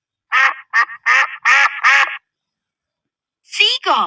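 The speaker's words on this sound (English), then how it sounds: "Duck." A duck quacks in a loud, close run of five nasal calls, then falls silent before two more quacks follow.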